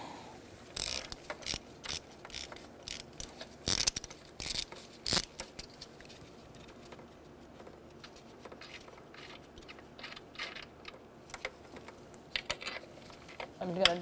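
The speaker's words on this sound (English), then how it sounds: "Using a 10mm socket, we are going to take out our studs" A hand ratchet with a 10mm socket turns out intake manifold studs on a 2000-2007 Ford Taurus 3.0L V6, sparse clicking pawl strokes and metallic taps, close and fairly quiet.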